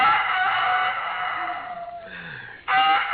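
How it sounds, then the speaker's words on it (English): A rooster crows loudly in two long, strained calls separated by a short pause, close to the listener, with no talking. "I could have slept if it hadn't been for that darn rooster"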